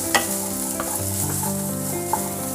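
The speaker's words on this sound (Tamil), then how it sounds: "நான் ஒரு 1 minute வரைக்கும் நல்லா இப்படி ஃப்ரை பண்ணிருக்கேன் ஆயில்ல" Sliced carrot, beans and cabbage frying in hot oil for noodles, a steady close sizzle with a few sharp clacks of a spoon stirring the pan, no voices.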